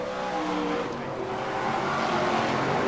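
BriSCA Formula 1 stock cars race around the Skegness circuit, a loud continuous engine roar with several cars droning and shifting pitch together, steady and unbroken throughout.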